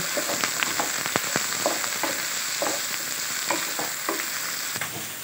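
Chicken keema sizzling and frying in a pan, a steady close crackle with frequent small pops and spoon scrapes from stirring, no voices.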